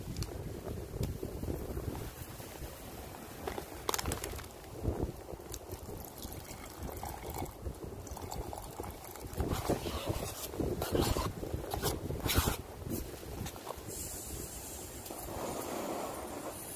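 Strong hurricane wind at a campsite buffets the microphone in loud, uneven gusts and roaring rushes, with occasional sharp knocks and handling noises during cooking.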